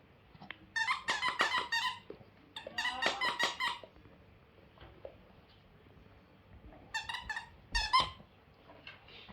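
A rubber dog toy ball squeaks loudly in three bursts of rapid squeals, with quieter chewing sounds and a brief thump between them, and no talking.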